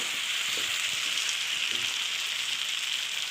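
Frying chicken curry in a pan gives off a continuous bright hiss and sizzle as water goes in, with faint bubbling and light clatter underneath, steady throughout.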